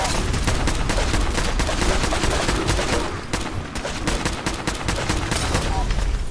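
Dense, continuous gunfire in the video game Fallout 4, loud and sustained rapid shots with a brief dip midway, no talking.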